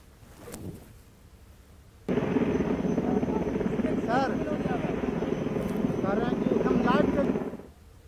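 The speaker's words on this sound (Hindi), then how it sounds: "तस्वीरों में आप देख सकते हैं कि कैसे हेलीकॉप्टर के जरिए रेस्क्यू ऑपरेशन चलाया जा रहा है।" An Mi-17 helicopter flies during a rescue operation in Deoghar, its rotor and engine drone starting abruptly and holding loud and steady for several seconds before cutting off, with voices talking over it.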